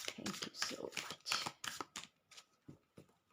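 Tarot cards are riffled and shuffled by hand in quick, close, crisp bursts of flapping card noise that slow and thin out toward the end, with no talking.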